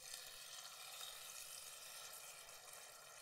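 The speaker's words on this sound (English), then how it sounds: "that's the sizzle that we want to hear" Steady, crackling sizzle of brisket searing in hot oil in a hot pan, continuous and fairly quiet, with no voices.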